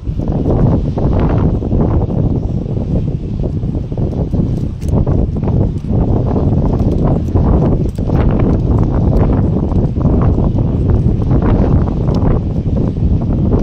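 Strong wind roars across the microphone outdoors at a harvest, heavy low buffeting that surges and pulses steadily, close and loud, with no speech.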